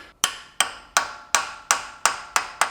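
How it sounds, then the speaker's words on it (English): A new pilot bearing is tapped into place on an older BMW E39 530i Touring using a 21-inch socket: eight sharp, evenly spaced metallic hammer taps, close and clear, each with a brief ringing decay. "21-inch socket, and slowly tap it into place"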